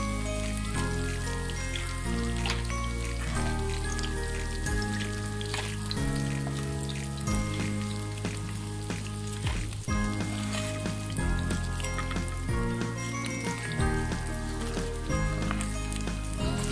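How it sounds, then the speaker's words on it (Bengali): Coral fish fries in hot oil in a pan, giving a continuous crackling sizzle beneath a steady music bed with no speech. "মাছটাকে আমি একটু ভালোভাবে ভেজে নিচ্ছি।"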